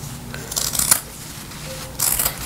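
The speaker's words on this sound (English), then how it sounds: "then I'll go ahead and just trim this extra off" Scissors trim excess fabric in two short bursts of close, crisp cutting.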